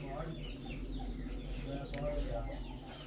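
Hen in a breeding coop gives soft, scattered clucks under a low-level farmyard murmur, fairly faint and close.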